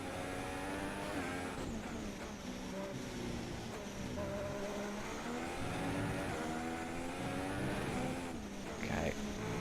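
Ferrari Formula 1 car in the F1 2016 racing game, engine note revving up and down in a continuous whine as the car briefly loses control, tyres scrubbing, with no talk over it.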